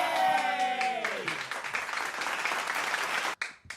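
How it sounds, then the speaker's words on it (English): Recorded applause from the show's hosts plays as a dense, steady patter of clapping lasting several seconds. A falling tone fades out at the start, and the clapping ends in a brief cutoff. "That's us clapping and recorded it."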